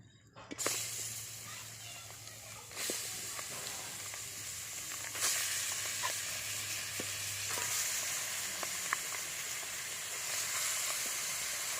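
Pieces of duck meat fry in a pan for a village-style duck gravy, giving a steady bright sizzle and hiss with occasional stirring scrapes and faint voices in the background.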